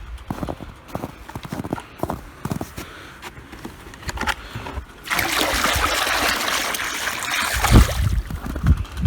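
Water is poured out for poultry in a farmyard, first with irregular knocks and clatter, then a steady splashing trickle that runs for several seconds with a few louder thuds near the end.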